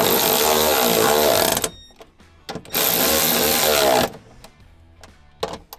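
Power ratchet driving bolts into a cargo MOLLE panel inside a two-door Ford Bronco, heard as two loud sustained bursts of buzzing whir, each about a second and a half, separated by quieter clicking and handling noise.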